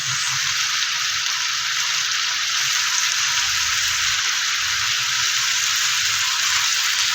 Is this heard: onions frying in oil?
yes